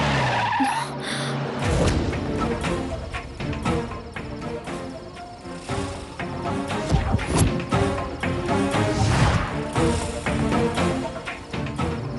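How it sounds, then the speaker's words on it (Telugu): A car in a Telugu TV serial skids as a tire punctures, giving a long loud tire screech with thuds and clatter, swelling and fading over about twelve seconds with no talk. "ఛ, టైర్ పంక్చర్ అయింది."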